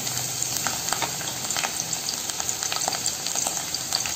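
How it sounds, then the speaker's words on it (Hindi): Onions frying in two tablespoons of hot oil in a pan, a dense steady sizzle with scattered crackles and pops running throughout, close and continuous with no talking. "उसे गर्म करके उसमें हम प्याज को फ्राई करेंगे।"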